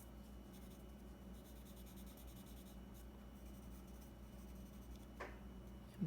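Q-tip rubbed over pencil shading on paper to blend a drawing of a glass, a very faint, soft, steady swishing and scrubbing close by, with no talk.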